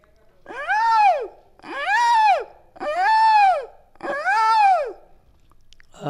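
A Chhattisgarhi mimicry comedian imitates a peacock's call with his voice: four long, rising-and-falling wailing cries of even length and spacing, loud and close, with short silent gaps between them.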